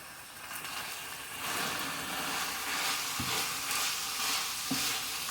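Spaghetti meat sauce with salt and pepper cooking down in a pan, partly covered by a lid, a steady close bubbling sizzle with two soft knocks near the end and no talk.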